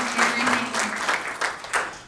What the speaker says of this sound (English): we give Stephen Jones a big round of applause